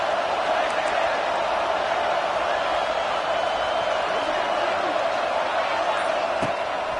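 A large football stadium crowd in an NFL Jets game roars continuously, a dense, loud wash of cheering and noise that holds steady throughout with no break.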